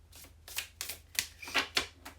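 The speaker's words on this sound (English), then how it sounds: "So we'll do a good faith shuffle." Tarot cards being shuffled by hand in a few quick riffling bursts, crisp and close, with short pauses between them and no talking.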